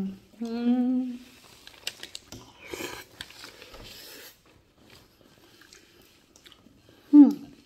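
Close, wet chewing of fatty lamb neck chop, with soft irregular bites and squishy mouth sounds, framed by brief vocal murmurs at the start and end.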